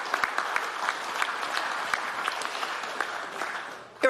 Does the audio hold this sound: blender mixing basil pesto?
no